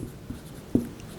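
Strokes of writing on a board make soft scratches and taps, with a sharper tap near the end, against quiet room tone.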